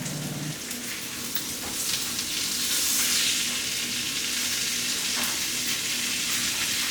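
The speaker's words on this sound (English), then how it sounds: "Let it butter up, let it sizzle up." Loud, crackling sizzle of steak frying in butter in a hot pan, with spitting pops over a steady hiss and a faint low hum.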